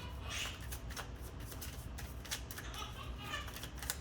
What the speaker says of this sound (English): let's pull you some Moonology cards to close this off